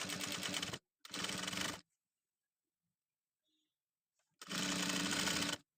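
Sewing machine stitching the collar of a school uniform top, running in three loud bursts, two short ones close together, then a long pause of near silence before a final burst.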